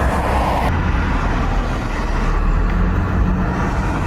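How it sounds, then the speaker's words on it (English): A loud, steady vehicle roar with heavy low rumble, like a car with a noisy exhaust running close by, with no voices. "The loud exhaust."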